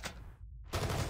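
Gunfire from the mobile shooter Call of Duty Mobile: a loud burst, a brief silent gap, then another dense, close volley of rapid shots.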